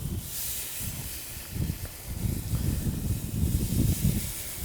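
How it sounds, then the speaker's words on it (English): Steady hissing sizzle of Moorish pork skewers on a hot grill, crackling louder toward the end, with no voices. "You want to hear it sizzle the moment it hits."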